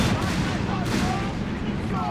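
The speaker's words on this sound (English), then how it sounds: "Tanks being bombarded here. Guns letting loose here." Artillery bombardment and heavy gunfire from a Company of Heroes 3 match as tanks are shelled, forming a dense, continuous roar of blasts and shots with a commentator's voice mixed into the din.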